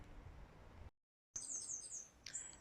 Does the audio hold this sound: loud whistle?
no